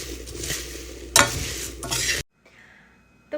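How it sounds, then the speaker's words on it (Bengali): Puffed rice frying in oil is stirred constantly in a pan, giving close crackling sizzle with scraping and a sharp utensil clack, then the sound cuts to near silence. "এই মুড়িগুলো ভাজা করে নেব এবার সবসময় নাড়তেই হবে নাহলে নিচের মুড়িগুলো পুড়ে যাবে"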